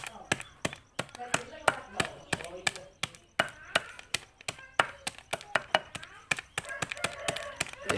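Ingredients pounded fine by hand for a home remedy for jungle fowl with flu, snoring breath and chalky droppings, giving a steady run of sharp, close knocking strikes, some landing in quick pairs.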